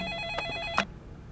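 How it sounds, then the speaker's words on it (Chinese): A telephone rings in a tense indoor drama scene: a bright, trilling electronic bell sounds close and clear in short repeated bursts, with a couple of sharp knocks between rings and no talk over it. "电话响了。"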